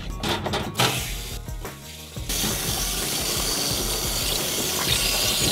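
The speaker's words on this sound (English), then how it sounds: "This rinser has a flexible tube to get up into the tank and flush out any sediment that might be left over." Water gushes steadily from an RV water heater tank as a flexible-tube rinser flushes out sediment, a loud continuous rushing splash that starts after a few seconds of quieter running water.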